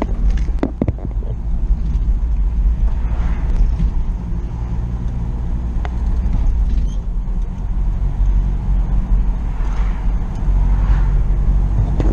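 Russian UAZ car on the move, heard as a loud, constant low engine and road rumble with occasional creaks and rattles, close and continuous throughout.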